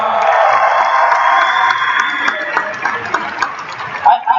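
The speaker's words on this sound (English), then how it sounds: "Can we give him a huge round of applause?" Arena crowd at an ACN event in the MEO Arena cheers and applauds a champion member from Paris, a loud sustained roar of voices with whoops, thinning toward the end.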